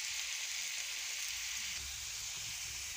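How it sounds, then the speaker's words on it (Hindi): A radish omelette frying on a hot tawa griddle gives a steady, soft sizzle with faint crackle throughout, fairly quiet and even, with no voices. "इसको अब हमने तवे पे डाल दिया है। जब फ्राई हो रहे हैं,"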